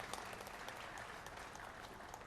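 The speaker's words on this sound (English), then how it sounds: "a big round of applause for these 2 gentlemen" Steady applause from a crowd at a university convocation, dense clapping heard at a distance, continuing evenly throughout.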